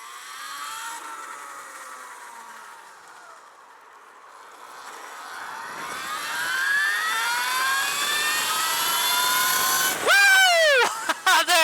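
Alta Redshift SM39 electric motorcycle accelerating hard on a road ride, its rising electric whine climbing steadily in pitch over rushing wind, loud and close, ending in a few sharp wavering tones.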